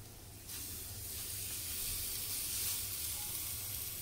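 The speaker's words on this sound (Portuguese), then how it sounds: "Observem que a nossa churrasqueira, ela tá até chiando a nossa grade." Denver steak sizzles on the grate of a charcoal barbecue grill, a loud, steady hiss that swells abruptly after a quiet start and holds close and continuous with no talk.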